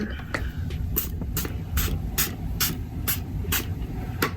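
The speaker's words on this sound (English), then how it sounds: "Let me spray my face just before." A series of about ten short, quick face mist spray bursts, evenly spaced, over a low background rumble.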